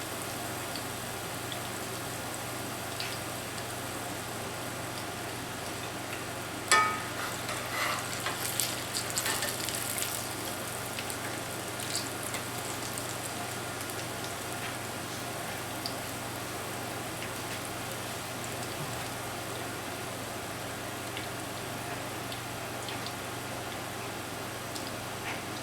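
Country fried steak frying in a pan of hot oil, a steady, even sizzle and crackle that holds for the whole stretch, with a brief louder spatter early on and no talking.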